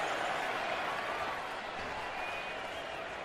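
A packed crowd at Arrowhead Stadium roars at a Chiefs–Raiders NFL game, a dense, steady wash of noise heard from a distance.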